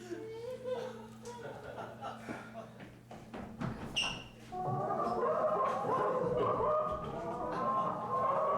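Chickens clucking and a rooster calling in a yard, sounding close and busy, with people talking over the birds.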